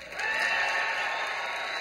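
A television studio audience breaks into applause, a dense and loud wash of clapping that rises quickly and holds steady, with faint cheering mixed in.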